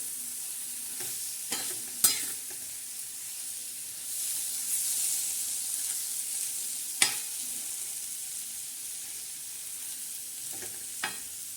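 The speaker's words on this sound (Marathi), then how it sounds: "तर मैत्रिणी बघा साधे सोपे असे कारले आपण छान असे परतून घेणार आहोत." Bitter gourd stuffed with peanut powder fries on a griddle, giving a soft, steady sizzle with occasional sharp clicks and scrapes from a turning utensil, close and quiet.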